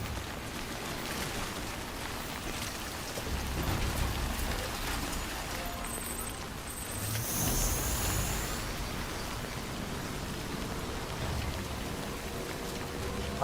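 Steady timefall rain from the game Death Stranding falls continuously as a dense wash of patter on surfaces, swelling slightly at moments, with no voices over it.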